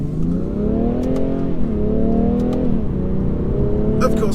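A 2017 BMW 435d diesel coupe accelerating hard, heard from inside as a loud sustained engine drone rising in pitch, with brief dips at gear changes.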